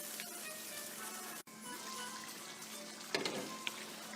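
Mutton for karara bhuna gosht simmering over low heat after water is added, a soft, steady sizzle and bubble that runs throughout, with a brief break and a few small pops near the end.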